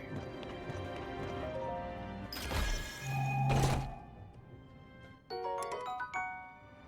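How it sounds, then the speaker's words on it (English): A final gong in the video game Tears of the Kingdom rings out as a bright metallic strike with a sustained tone around the middle, set among game sounds and music, followed by further chiming hits near the end. "Ah, final gong."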